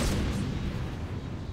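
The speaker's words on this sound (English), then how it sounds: "Grenade!" A grenade goes off in Batman: Arkham City, one loud broadband boom at the start that rolls into a long, rumbling decay over about a second and a half.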